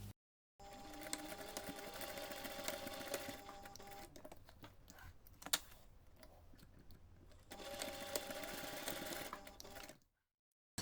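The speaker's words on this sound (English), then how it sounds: "So now you can take this to the machine and sew those tiny seams." A sewing machine stitches the small seams of a fabric cardholder wallet in two close runs of steady mechanical whirring, separated by a pause with a few clicks, then stopping.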